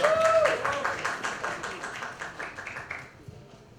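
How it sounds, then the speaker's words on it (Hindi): Scattered clapping greets a guest stepping onto the stage at a live music event, a handful of distinct claps that taper off and fade within a few seconds. "तालियां!"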